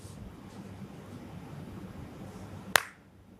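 A single sharp hand clap rings out near the end, loud and close, standing alone against a low steady background rumble.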